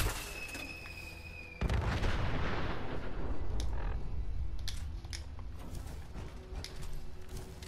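A weapon fires in Fallout 4 survival mode, a sudden loud blast followed by a long rumbling roar and scattered sharp cracks and clicks fading away, with no talking.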